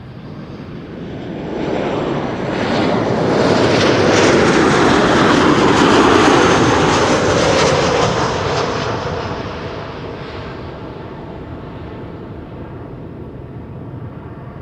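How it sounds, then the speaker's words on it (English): A Boeing 737-800 airliner's jet engines roar past at Schiphol Airport, swelling from a distant rumble to a loud, broad whoosh and then fading away, with no voices. "737-800, flight 1542, flight time 3 hours and 2 minutes"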